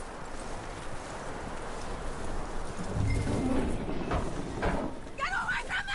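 Horse hooves clip-clop in Red Dead Redemption 2, a rhythmic run of hoofbeats at moderate volume, with a voice talking partway through and other game sounds in the mix.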